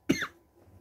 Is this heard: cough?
yes